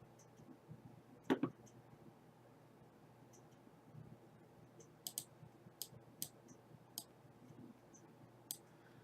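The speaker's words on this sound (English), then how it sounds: "Or my mouse might be going dead. I'm having clicky issues." A computer mouse clicks in sharp, isolated taps, a couple close together early and then a spaced series of crisp clicks over low steady background hiss.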